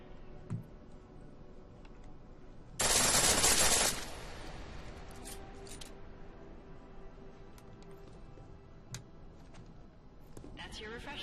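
Automatic gunfire in Deus Ex: Mankind Divided, one loud sustained burst of about a second standing out above a quiet game background with faint clicks.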